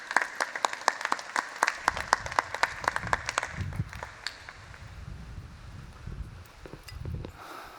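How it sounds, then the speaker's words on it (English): An audience at the JuliaCon 2024 programming conference claps for a speaker, a scattered burst of individual claps that thins out and fades into low room murmur. "a round of applause for our speaker"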